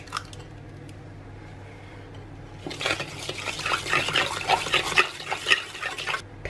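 An egg cracked and mixed into chocolate chip cookie dough, a wet squishing and stirring that grows louder midway and continues in close, uneven bursts without talk.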